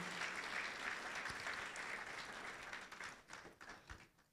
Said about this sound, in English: Let's give him a round of applause this morning.